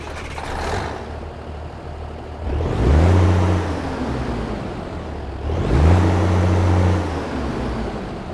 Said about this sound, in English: let's get this International 9900i started up